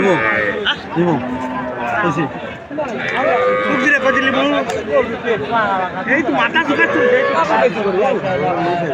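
At a busy cattle market in Joypurhat, cows low and moo repeatedly, close and loud, amid a dense crowd of chattering voices that runs throughout.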